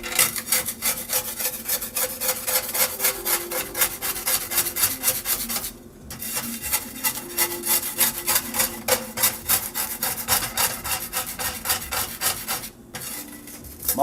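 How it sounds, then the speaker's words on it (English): A spatula scrapes a pan during stovetop cooking, a steady, close rasping with rhythmic strokes that runs almost the whole time, broken by two brief pauses. "I'm going to get just a quick spatula, just to kind of scrape this off."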